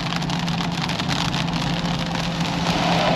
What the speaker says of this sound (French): c'est la tempête dehors. Il pleut.